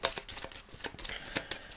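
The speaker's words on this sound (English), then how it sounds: "We are going to shuffle the deck again." A deck of board game cards is shuffled close by, giving quiet riffling and soft slaps in quick irregular bursts, with no voices.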